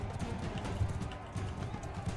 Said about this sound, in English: That horse doesn't want me on it.